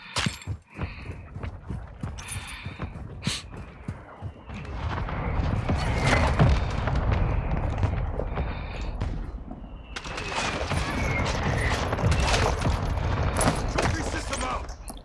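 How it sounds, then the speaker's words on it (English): A friendly mortar strike in Call of Duty Modern Warfare II brings heavy booming impacts and crashing debris, rolling in two loud waves amid scattered gunfire, with a player talking faintly at times. "Friendly mortar strike, let's go."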